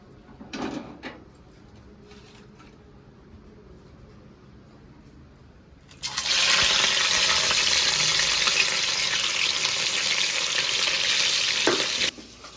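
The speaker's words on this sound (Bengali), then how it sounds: "এই যে চলো মাছগুলো আগে ভেজে নিই" Rohu and catla fish pieces frying in a pan; quiet kitchen shuffling and a few knocks at first, then a sudden loud, dense sizzle bursts in and holds steady before cutting off near the end.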